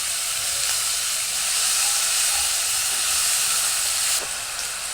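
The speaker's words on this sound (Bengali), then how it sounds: "এখন অল্প একটু পানি দিয়ে মশলাটা ভালোভাবে কষাই নেব।" Fried spices in a hot pan sizzle loudly as a little water is added, a dense continuous hiss of steam held close and steady, easing slightly near the end, with no voices.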